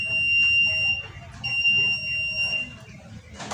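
A small electronic buzzer on an ESP32 tilt sensor alarm sounds a thin, steady high-pitched tone that stops and restarts, fairly faint under low background noise and some quiet speech.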